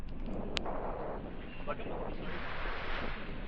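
Strong wind sweeps across Repulse Bay beach in Hong Kong during a winter sea swim, a steady low roar buffeting the microphone, with a brief sharp click early on.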